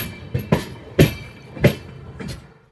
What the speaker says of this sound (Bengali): আর দেখো ওইদিকে ট্রেন।